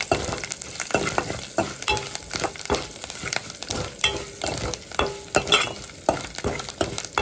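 A tempering of dried red chillies, curry leaves and asafoetida sizzles in hot oil, loud and close, with steady crackling frying and frequent stirring scrapes of a spoon against the pan, no voices.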